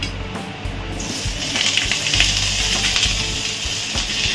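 Papaya pieces dropped into hot oil sizzle steadily, a bright crackling hiss that swells after the first second and holds close and continuous with small pops, no voice over it.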